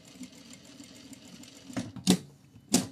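Sewing machine stitching a pocket seam at a 1 cm allowance with a shortened stitch length: a quiet background hum, then a few short, sharp mechanical bursts near the end.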